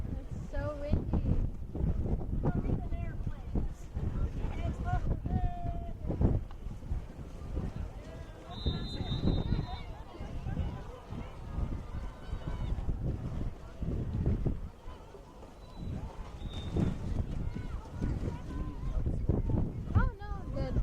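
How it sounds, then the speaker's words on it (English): Steady wind gusts across an outdoor canoe polo championship venue in Welland, buffeting the microphone with a continuous rough rumble while nearby voices chat over it. "It's so windy."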